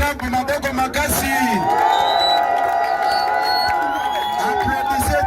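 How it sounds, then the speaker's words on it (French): A crowd cheering and shouting at a rally in honour of the American president Donald Trump, with loud sustained whoops and bellows and a steady babble of voices throughout. "Applaudissez très fort pour l'honneur du président américain Donald Trump."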